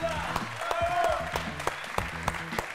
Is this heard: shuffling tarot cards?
no